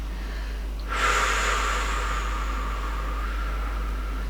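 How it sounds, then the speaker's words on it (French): A person breathes deeply, drawing one long, forceful breath in through the nose, then slowly releasing it through the mouth over a low, steady background hum. "inspire par ton nez de façon assez marquée. Tu vas au maximum de ce que tu peux à l'inspire et à l'expire par la bouche."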